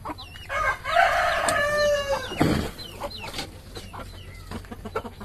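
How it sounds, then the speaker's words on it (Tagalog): A native chicken rooster crows loudly nearby, one long drawn-out cock-a-doodle-doo, followed by scattered clucks and softer bird calls on a farm. "native chicken."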